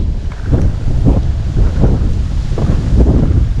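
Strong wind over a rice field buffets the microphone in heavy, gusting roars, with a constant low rumble rising and falling throughout, no voices.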